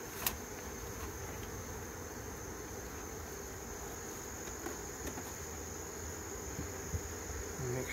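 Honey bees buzz steadily around an opened hive at dusk during a honey harvest, a faint continuous hum with a few brief closer passes and no talking.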